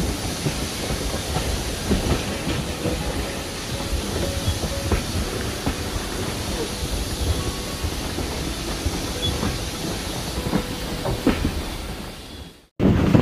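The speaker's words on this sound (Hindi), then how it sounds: "और ये हमारी ट्रेन छुक छुक छुक छुक करती हुई जा रही है" A steam train runs on the Isle of Wight steam railway, heard from on board as a continuous rumbling, rattling ride with clickety-clack and hiss, steady throughout and cut off briefly near the end.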